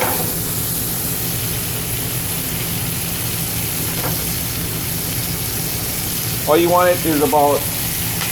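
Shrimp sautéing in a hot pan for a Hawaiian-style Shrimp Creole, giving a steady, even sizzle that runs throughout, with a brief stretch of talking near the end.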